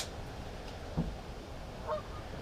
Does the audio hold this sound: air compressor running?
no